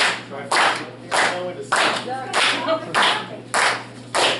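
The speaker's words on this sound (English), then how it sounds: "Don't everybody decide to stop clapping." A group claps hands together in bursts at a party game, the clapping rising and pausing several times over a steady low background hum, fairly close and loud.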